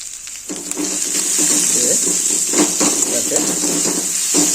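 Chopped onion and green chilli frying in a pan, a steady hiss and sizzle with light stirring clatter underneath, close and fairly loud.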